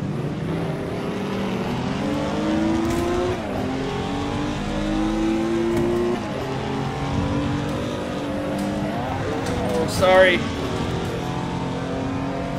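Touring car legends race in Assetto Corsa, a 1960s Jaguar among them: engines rev and shift through braking zones with layered roars, and a brief tire squeal rises near the end while someone talks over it.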